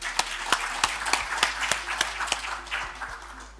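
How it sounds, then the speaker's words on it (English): Conference audience applauding for the leadership, a full round of clapping with sharp individual claps rising above the crowd, steady and close, with a low hum underneath. "let's give a round of applause to our leadership"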